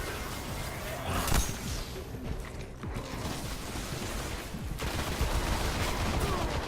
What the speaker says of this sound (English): Actually glad they started you off with a sniper rifle.